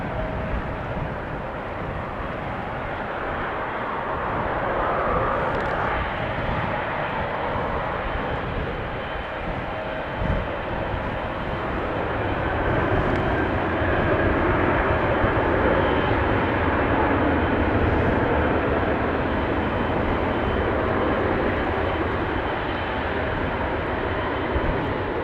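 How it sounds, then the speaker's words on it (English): Boeing 737-700 taking off at Amsterdam Schiphol Airport, a broad steady jet engine roar heard from a distance that swells gradually and holds for the whole stretch, with no talk. "737 that is going to skip the line and take off from over there."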